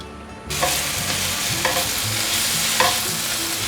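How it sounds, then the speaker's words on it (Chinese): Tomatoes stir-frying in olive oil, a bright continuous sizzle starting abruptly and holding steady, with a few soft scraping stirs of the spatula and no voices. "把番茄放进来，把番茄炒软"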